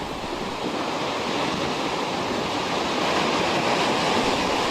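Ocean waves on the coastline near London Bridge on Australia's Great Ocean Road, heard as a constant loud wash of surf with gusty wind across the microphone and no voices.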